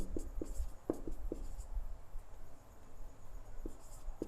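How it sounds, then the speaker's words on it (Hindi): Chalk or marker strokes on a classroom board during a physics lesson, a few short scratchy taps clustered early and again near the end, quiet and close with no talking. "तो उसको भी मैं लिख दे रहा हूं"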